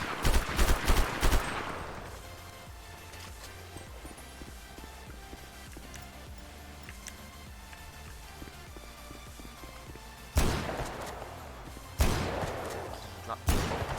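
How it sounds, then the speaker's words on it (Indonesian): Gunfire from a FiveM video game sound pack, with loud bursts of rapid shots at the start, a quieter, busier stretch in the middle, and more sharp volleys near the end. "Oke, kita mungkin coba dari suara tembakan dulu."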